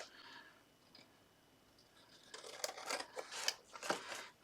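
Scissors trim an overlapping paper quilling strip with a quick run of crisp, close snips after a quiet pause, no voices present.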